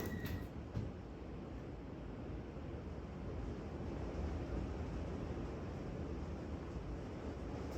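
Steady, dense roar of heavy rain and gusting wind outside, constant and loud with no voices, filling the whole stretch without letup.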